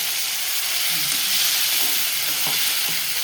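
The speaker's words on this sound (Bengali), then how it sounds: "ভালো করে এখন কষাবো" Spice paste with a splash of water fries for an egg curry, making a loud, continuous hissing sizzle up close with occasional soft stirring knocks and no talk.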